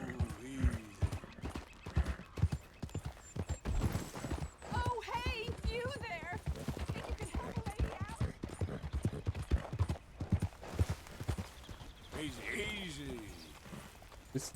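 Horse in Red Dead Redemption 2, a hungry steed with rhythmic hoof clip-clops and several whinnies and snorts, heard amid game ambience while someone talks over it.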